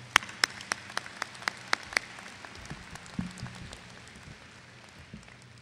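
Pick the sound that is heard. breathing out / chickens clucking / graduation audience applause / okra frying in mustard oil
graduation audience applause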